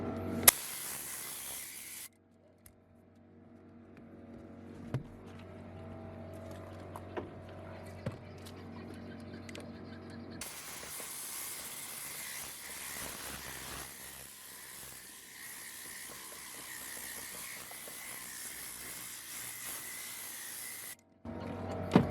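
A compressor-fed air blower for car interior detailing hisses in two long bursts, a quieter stretch of rushing air followed by a louder, brighter continuous blast with faint handling clicks between.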